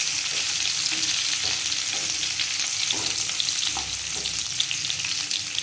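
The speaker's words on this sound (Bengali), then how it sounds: "সেদ্ধ করা আলুগুলোকে আগে একটু ভালো করে লাল লাল করে ভেজে নেব।" Boiled potatoes frying in oil in a pan, a steady loud sizzle with occasional soft scrapes and knocks of stirring throughout.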